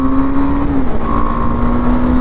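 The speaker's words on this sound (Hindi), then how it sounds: "चलो एक बार और 5000 RPM पे ले जाते हैं थर्ड गियर" KTM Adventure 390 motorcycle engine held high at about 5000 RPM in third gear, a loud continuous whine with a slight dip in pitch, steady and close with wind noise.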